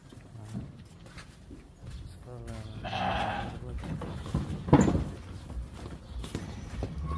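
Purebred yellowish sheep bleat a few times at close range, one louder call standing out, amid shuffling farmyard noise and faint murmurs in the background.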